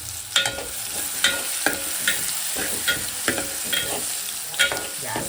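Garlic and green chillies sizzle in very hot oil for a crab curry, a steady frying hiss broken by repeated sharp stirring scrapes at close range, with no talking.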